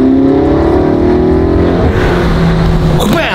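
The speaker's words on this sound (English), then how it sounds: "Those turbos just spool like crazy." Turbocharged McLaren supercar heard from inside the cabin, loud and continuous, with a steady engine drone and rising turbo whine and whooshing that swells toward the end.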